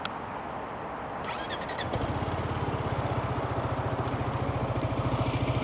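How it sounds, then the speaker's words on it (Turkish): A Zontes 250 T-E scooter engine starts up and settles into a steady, buzzing idle nearby, running continuously with a rapid puttering rhythm. "Motorun sesini de umarım duyuyorsunuzdur buradan."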